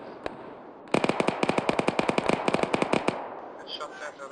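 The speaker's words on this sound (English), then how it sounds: "Good shot there, Village." Rapid automatic gunfire from an ArmA 3 military shooter game in a snowy combat mission, a sustained burst of about twenty sharp evenly spaced shots after a single early shot, fairly close, then faint voices.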